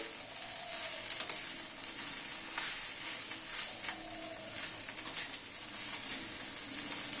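Banana stem curry with crushed fried bori stirred in a pan on the stove, a soft steady sizzle under occasional scraping strokes of a spatula, close and fairly quiet with no talking.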